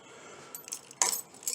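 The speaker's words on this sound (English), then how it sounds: "So we got a bunch of motorcycle keys on here" A bunch of motorcycle keys jangling, quiet metallic clinks and rattles in short bursts that grow briefly louder near the end.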